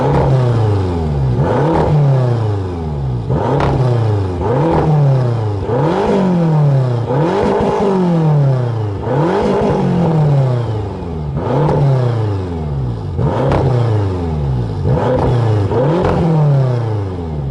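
A BMW F10 M5 with its stock exhaust is revved over and over, each loud rise and fall in pitch coming about every two seconds in a steady rhythm, close and dominant throughout.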